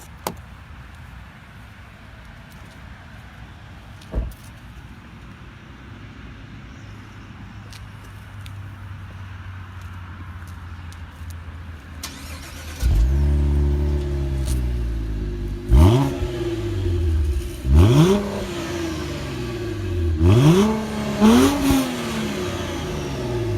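After quiet cabin ambience, a 2019 Cadillac ATS-V Coupe starts with a surge, settles into a idle, then revs several times in quick rising and falling sweeps, close and loud, with no talk.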